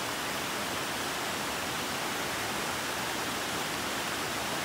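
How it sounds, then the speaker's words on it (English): A side creek rushes steadily during a rainy winter hike in the North Cascades, Washington, making a constant, even broadband roar with no other sounds. "It's so fun to hear all this water rushing."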